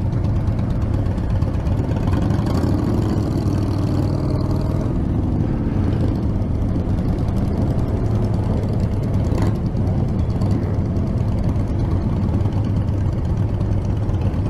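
A large group of motorcycles riding slowly in a funeral escort makes a steady, dense engine rumble that continues throughout at close range, with no talk.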